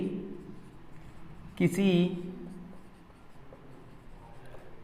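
Chalk or marker scratching across a board during a maths lesson on divisibility rules, with a short burst of writing under a teacher's Hindi speech.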